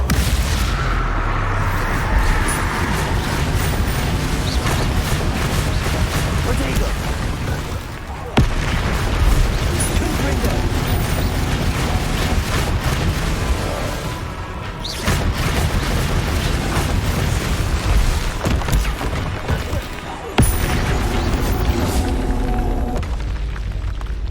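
The Confringo blasting spell explodes in the Hogwarts Legacy video game, sounding as loud, dense, booming blasts and rumbling impacts layered with game effects and music, nearly continuous with a few brief drops.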